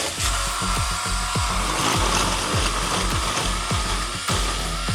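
A Sequoia electric or cordless pole saw cuts through a tree branch outdoors, producing a steady loud mechanical buzz with rapid rhythmic chain clatter throughout.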